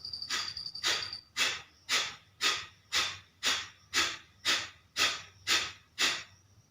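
Kapalabhati breath of fire yoga breathing: a steady train of about eleven sharp, forceful nasal exhales pumped out at roughly two per second, close and evenly spaced, with nothing else heard.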